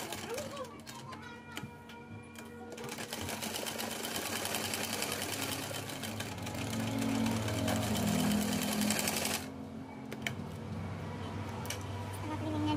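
Sewing machine stitching a 3D cloth face mask, running continuously for most of the span with a steady mechanical whir, growing louder midway, then easing near the end while a voice sounds faintly in the background.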